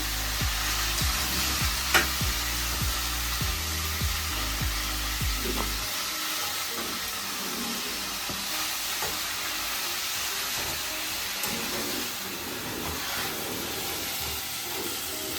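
Ghee sizzles steadily in a pan while palak pulao is cooked, a continuous close frying hiss with low thumps and handling knocks at the start, then a softer bubbling crackle with occasional clicks.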